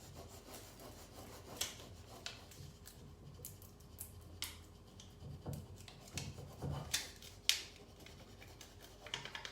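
A hand rubs an icing transfer sheet onto a cake, giving quiet, scattered rubbing and scraping strokes with a few sharper ticks in between, close up and with no talking.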